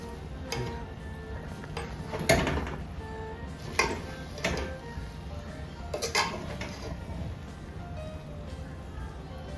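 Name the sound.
mixing beef biryani in a pot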